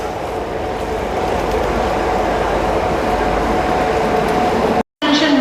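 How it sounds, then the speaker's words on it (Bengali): The Kamrup Express bound for Howrah pulls into Cooch Behar station: a loud, continuous close rumble of rolling wheels and carriages fills the whole stretch, with a brief dropout near the end. "ওই দিকের প্ল্যাটফর্মে একটা গাড়ি আসছে"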